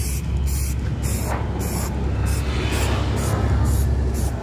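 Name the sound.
spray paint on rusty motorcycle parts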